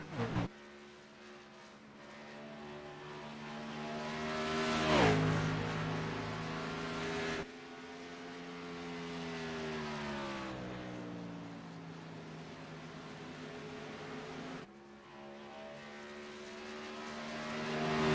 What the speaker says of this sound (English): 1 lap to go for Derek Norton to bring it home here